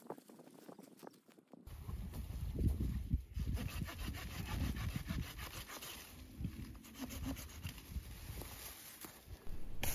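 A handsaw cuts through scale-diseased olive tree branches during pruning, a steady rasping back-and-forth stroke close by, continuous and fairly loud with a rough, uneven rhythm.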